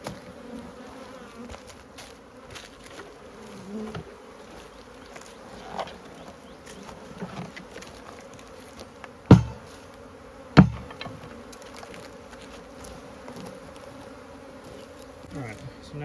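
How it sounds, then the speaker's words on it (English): Steady, dense buzzing of many bees around a ten-frame hive box during a transfer from a nuc, close and continuous, with a couple of sharp knocks against the wood. "I still have a lot of bees in here."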